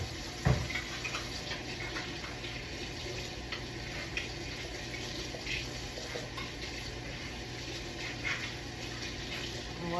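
Running tap water splashes over a jar lid being washed at a kitchen sink, a steady close wash with light clinks and handling noises.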